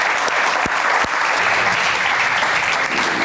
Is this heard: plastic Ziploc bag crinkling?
no